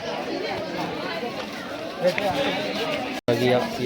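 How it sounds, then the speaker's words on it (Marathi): A crowd of visitors chatters along the path at the Ajanta Caves, a steady outdoor babble of many overlapping voices with footsteps, briefly cutting out near the end before resuming. "पाहायला आलेल्या लोकांची गर्दी आपण पाहू शकता"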